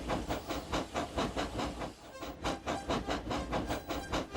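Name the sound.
steam engine train puffing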